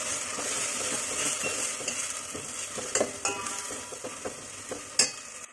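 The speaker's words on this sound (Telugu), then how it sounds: "మసాలా ముద్ద యాడ్ చేసుకున్న తర్వాత మనం ఇది కొంచెం బాగా మిక్స్ చేసేయాలి" A spoon stirs and scrapes through a thick masala paste in a frying pan, with a steady soft sizzle underneath and a few sharper knocks against the metal.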